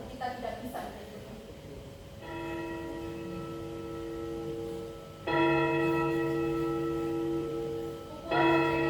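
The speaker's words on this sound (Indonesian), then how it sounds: "Pukulan lonceng kamu." A church bell rings in a stage production, with bright sustained strikes that come twice more and louder, each one lingering and fading, as actors speak over the ringing.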